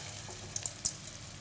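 An egg-dipped kabab fries in hot oil, giving a soft, brief sizzle with a few small pops and crackles, fairly faint.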